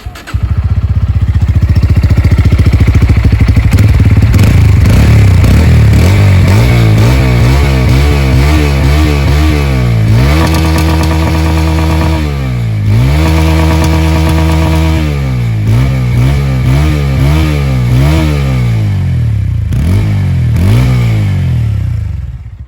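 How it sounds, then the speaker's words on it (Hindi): A Bajaj Pulsar P150 motorcycle engine cranks and fires up, then settles into a loud, close idle broken by several sharp throttle revs that rise and fall. "अब जो है इसका एग्जॉस्ट साउंड सुन लेते हैं"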